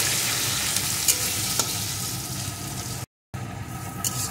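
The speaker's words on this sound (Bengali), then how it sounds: "পেঁয়াজ কুচিটা একটু ভেজে নেব, একদম কিন্তু লাল লাল করে ভাজবো না।" Chopped onions fry steadily in a pan for an egg curry, giving a close, continuous sizzle with a brief dropout partway through.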